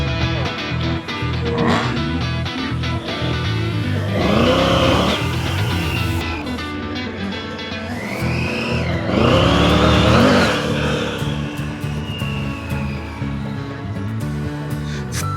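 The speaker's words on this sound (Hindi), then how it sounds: "ऑफ-रोड ग्राउंड पे मैं चला रहा हूँ टाइगर 900 रैली प्रो" Triumph Tiger 900 Rally Pro adventure motorcycle ridden on an off-road dirt track, engine revving hard and surging through repeated throttle bursts and wheel spin, loud and close, with no talk over it.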